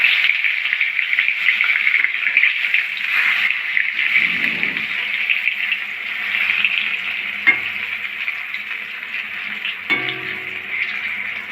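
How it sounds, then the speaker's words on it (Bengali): Eggplant slices fry in hot mustard oil, a loud steady sizzle filling the whole stretch, with a soft clatter as pieces are moved about and a brief metallic clink near the end. "বেগুনগুলো ভেজে নেব।"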